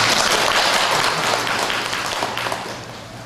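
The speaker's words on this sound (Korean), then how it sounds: "박수 한번 칠까요?" A church congregation gives a round of applause for its volunteers: dense, steady clapping close by that slowly fades toward the end.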